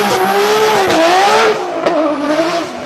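A cammed 1100-horsepower Dodge Hellcat running on E85 with an aggressive tune revs hard at its first start-up, a loud, close engine roar that rises and falls in pitch with a choppy idle edge.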